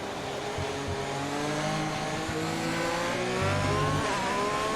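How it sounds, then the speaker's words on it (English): Race car engines in an online league racing sim on an Italian circuit, with Ferrari-powered cars battling: a steady, high-revving, buzzing engine whine climbs gradually in pitch, sustained and continuous, with a faint lower engine drone underneath. "I don't like the just the engine sounds"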